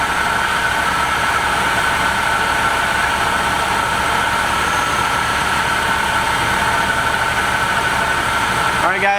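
A BMW E36 engine idles steadily after its cooling system was bled and topped up, producing a loud, constant hum with a faint whine and no breaks.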